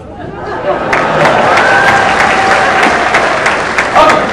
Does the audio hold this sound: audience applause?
yes